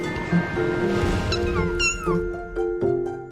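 Kittens in the VR sandbox game Kitten'd, several rising and falling meows over a busy game-music background, fairly close and clear, with no talking.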